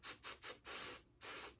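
Starch sprays onto a dress uniform tunic during ironing in four short, close hissing bursts separated by brief pauses, quiet and with no voices.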